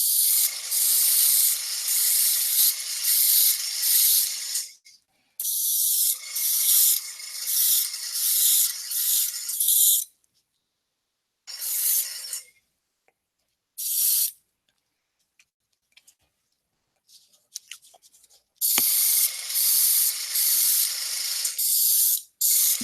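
Grey primer is sprayed from an aerosol can onto soft plastic Gloomhaven miniatures in several loud, hissing bursts of a few seconds each, separated by silent pauses and faint handling noises.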